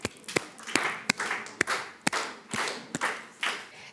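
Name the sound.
audience applause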